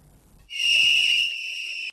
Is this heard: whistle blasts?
yes